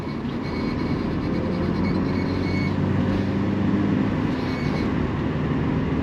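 A 2.0-litre Vauxhall Astra CDX estate on a shakedown run gives a steady, loud interior drone of engine and road noise, with a continuous low rumble that holds level throughout and no clear voices.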